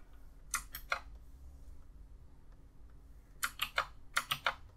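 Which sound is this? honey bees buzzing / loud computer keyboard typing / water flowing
loud computer keyboard typing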